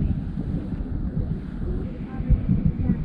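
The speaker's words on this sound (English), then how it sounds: "Pretty chilly out, like 16 degrees, 10 mile an hour wind." Wind at about ten miles an hour buffets the microphone on the frozen Wisconsin River backwaters while ice fishing in 16-degree cold, a steady low rumbling roar with gusty swells, close and fairly loud.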